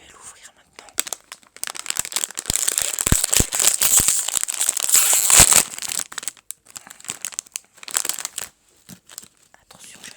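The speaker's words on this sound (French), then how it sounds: "Écoutez le bruit du paquet de chips. Je vais l'ouvrir maintenant." A bag of potato chips is opened close to the microphone in an ASMR setting, with sharp crinkling and tearing of the plastic packet coming in bursts, loudest in the middle, between quiet pauses.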